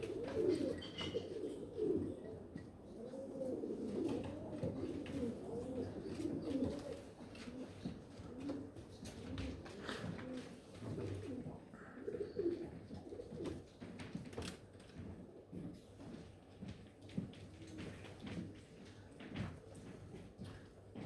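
Jacobin pigeons cooing at a show, soft repeated throaty coos from several birds, close and continuous, with faint background knocks and no clear talking.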